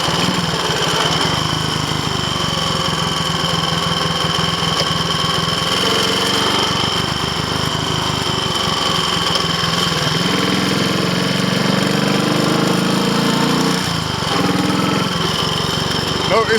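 A Triumph Tiger Cub motorcycle engine pinks as it runs hot on a road test, a loud continuous rattling drone with the engine note shifting throughout.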